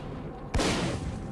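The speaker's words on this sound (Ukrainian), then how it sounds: "Тут стріляють." A single sharp gunshot in the video game S.T.A.L.K.E.R.: Call of Pripyat cracks out suddenly against a low background hum, its burst ringing briefly before fading.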